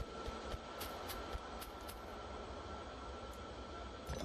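A train rolls past in the factory-building game Factorio, a faint, steady rumbling hum with a sustained tone and a few soft clicks and knocks spread across it, with no one speaking.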